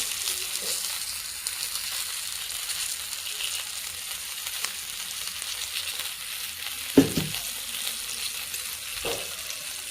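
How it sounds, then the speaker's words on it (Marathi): Fish frying on a tawa over a low gas flame makes a steady, soft sizzle throughout, broken by a sharp clatter near the end and a couple of faint scrapes, with no one speaking. "हे बघा मी अशा प्रकारे सगळे तव्यावर मच्छी ठेवून घेतलेले आहे. ह्याला बारीक गॅसवरच हे करून घ्यायचं, फुल गॅस करायचं नाही."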